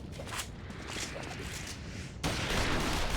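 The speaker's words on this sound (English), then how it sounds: "Shoot the bastard! Shoot him!" Rapid gunfire bursts in a Final Fantasy XIV battle scene, a dense continuous rattle of shots that swells louder and fuller near the end, with no speech over it.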